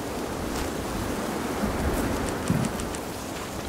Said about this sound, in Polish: Szum morza uspokaja ponoć.